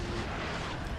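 Cannon artillery barrage in the battle game Napoleon: Total War, a dense, continuous rumbling roar of massed fire and distant impacts at fairly low level, without clear separate shots.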